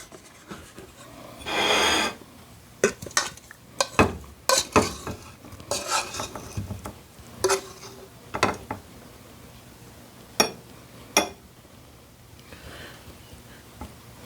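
A utensil stirs potatoes in a pan, giving scattered scrapes, clinks and knocks against the metal at an uneven pace, fairly close and with no talk over them.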